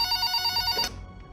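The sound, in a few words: telephone ringing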